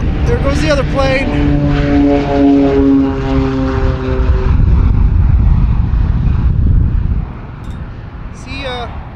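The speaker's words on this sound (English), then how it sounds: "There goes the other plane." A large propeller transport plane passes overhead at a remote northern Canadian airfield at Pickle Lake, its loud droning engine roar holding steady and then fading as it moves away in windy, cold conditions.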